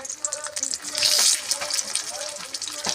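Soft boiled winter potatoes frying in the leftover oil used for eggs, a close, steady sizzle with crackly bursts and occasional stirring, briefly louder in the middle, with no voice.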